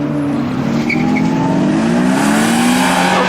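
A Chevrolet Nova racing through the lights at BerettaFest, its engine pulling hard in a rising, loud roar up close, with a brief tyre chirp early on.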